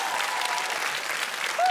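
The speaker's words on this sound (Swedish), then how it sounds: "En applåd!" A studio audience breaks into brief, loud, dense applause that holds steady, with a voice rising at the very end.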